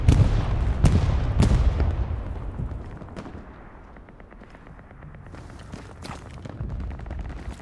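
Video game gunfire in a first-person shooter with a tank on a hill: loud sharp shots burst in close succession at first, then give way to a quieter stretch of rapid distant firing.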